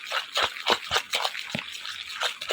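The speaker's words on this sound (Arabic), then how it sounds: "حطي الميه ما تحطيهاش مره واحده، حطي بالتدريج" Water is poured gradually into cake batter for a mango cake, giving a series of irregular wet drips and splashes close by with no talk.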